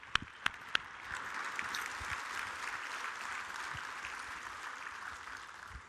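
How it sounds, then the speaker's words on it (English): An audience at a reliability conference's opening general session claps for the event sponsors, starting with a few separate claps and then settling into steady, moderately distant applause that holds throughout. "Please give a round of applause to all of them."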